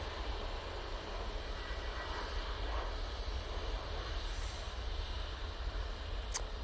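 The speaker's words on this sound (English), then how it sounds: "Ryanair 737 MAX 8 departing" Ryanair Boeing 737 MAX 8 departing Manchester Airport, a steady distant jet engine roar, moderately faint and sustained, with a brief sharp click near the end.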